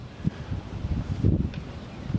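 Low gusty wind buffeting outdoors, rumbling in uneven bursts with a stronger gust near the middle.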